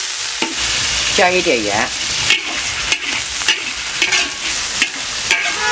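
Pork and sour radish stir-fry in a hot wok, with a loud, steady sizzle and the repeated scrape of a spatula tossing the food while a voice speaks briefly.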